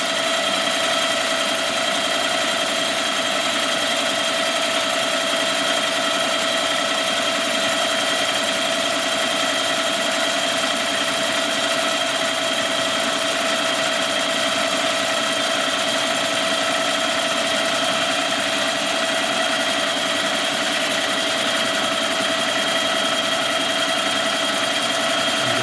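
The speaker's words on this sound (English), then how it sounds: "The cylinder's cutting round now at the bottom" A boring machine cuts the cylinder of a 1958 Harley-Davidson 74ci FL panhead engine, giving a constant loud mechanical whine with steady tonal hum and no break throughout.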